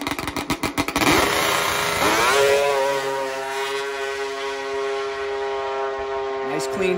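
A 700-plus-horsepower two-stroke turbo drag snowmobile makes a pass at a drag racing event: a loud, rising engine whine climbs in pitch and holds a piercing high tone, with an announcer's voice over it.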